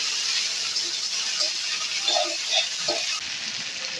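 Chopped onion frying with cumin and dried chilli in a pan for a cabbage curry, a continuous bright sizzle with a few soft clinks of stirring, heard close and alone.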